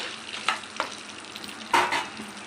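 Dried red chillies and green chillies frying in oil in a pan for tomato pachadi, a low sizzle broken by a few stirring scrapes and one louder crackling burst near the end.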